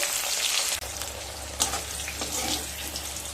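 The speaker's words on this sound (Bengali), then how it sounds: "পটলগুলোকেও হালকা ব্রাউন কালার করে ভেজে নেব" Pointed gourd pieces fry in a pan of oil with a steady, close hiss that runs unbroken and alone, with a couple of brief dips and bumps.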